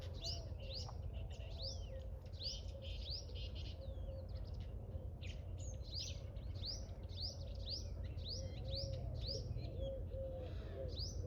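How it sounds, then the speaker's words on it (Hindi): Small birds chirp outdoors in repeated quick, bright tweets over a low steady background rumble, moderately near and continuous, with no one talking. "और भाई चिड़िया दिखाता हूँ, देखो"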